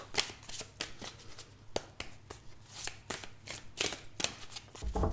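Tarot cards are shuffled by hand in a steady run of crisp riffling flutters and soft slaps, close and quiet, with no talk over it.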